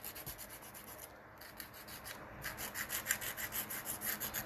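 Acrylic nails being shaped with an 80/80 grit nail file into a long, wide almond shape, a close, steady rasping rub in repeated back-and-forth strokes that grow louder and more rhythmic toward the end.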